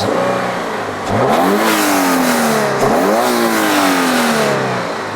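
A flat-four car engine revs up twice, pitch rising sharply each time and then falling back, loud and close with no voices.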